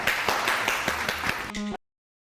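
Studio audience on a Pakistani TV comedy show clapping in a quick, moderately loud burst that stops abruptly, with a brief tonal musical sting at the end.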